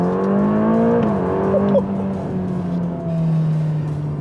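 A Ferrari Roma engine pulls hard under acceleration, its loud rising tone climbing steadily, dipping at a shift and climbing again, with a brief tyre chirp partway through.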